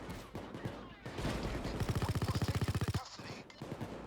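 Police gunfire in Payday 2 on Death Sentence One Down difficulty: a fast, evenly spaced burst of automatic shots rattles loudly for over a second amid chaotic combat noise, with a voice speaking briefly.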